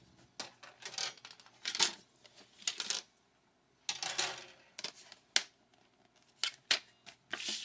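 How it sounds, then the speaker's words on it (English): Scissors or a paper trimmer cutting card stock to size for a handmade card, a series of close, crisp snips and slices separated by short quiet pauses. "So we're going to trim this down to be 5 1/4 by 4."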